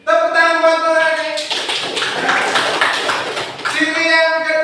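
A classroom claps for a student, a burst of applause lasting a few seconds framed by a voice speaking before and after.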